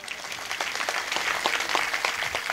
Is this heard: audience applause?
yes